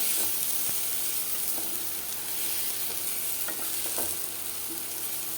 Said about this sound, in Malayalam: അപ്പോൾ നമുക്ക് പഴമൊന്ന് നല്ലപോലെ ഒന്ന് വാട്ടിയെടുത്തിട്ട് വരാം.